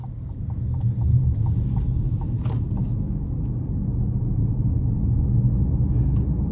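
Inside a new 2027 GMC Terrain Elevation FWD cruising under light throttle, a low, steady road rumble and hum fills the cabin, with faint ticks and clicks above it and no voices.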